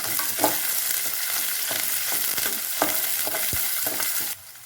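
Chopped large onions frying in a pan for sambar, a steady close sizzle broken by repeated brief scrapes and stirs of a spoon.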